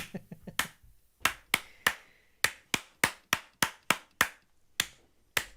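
A single person clapping slowly and unevenly, about a dozen sharp, close hand claps spaced out with short pauses between them, alone with no talk.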